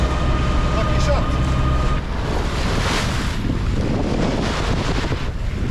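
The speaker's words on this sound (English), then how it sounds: "So that's the mainsail up, and we are jumping over the waves on headwinds." A sailboat under mainsail pounds over waves into a headwind on open sea, with loud, steady wind buffeting and the broad wash of surf and spray filling the whole stretch without a break.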